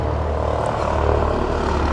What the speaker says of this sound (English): They sent a helicopter over to spy.